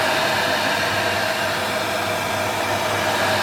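A hair dryer blows steady, loud airflow onto a Samsung American fridge freezer to heat it, a constant broadband whoosh with no pauses or talk.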